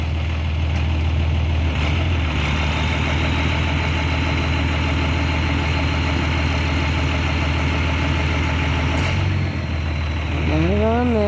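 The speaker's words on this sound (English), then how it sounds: "Old bread truck." An old bread truck's engine idles loud and close in a steady low rumble, with a rising pitch sweep near the end as it begins to pull away.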